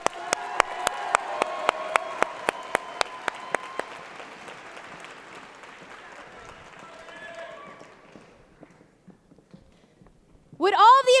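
A state convention session hall audience applauds graduating future agriculture teachers: sharp, evenly spaced loud claps for about four seconds, then a softer tapering patter that fades out before a voice begins at the end.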